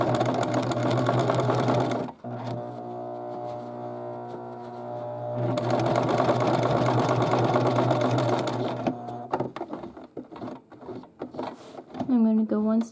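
Sewing machine stitching a patch onto a cap, running in steady loud bursts with pauses between them as the fabric is turned, and a voice speaks near the end.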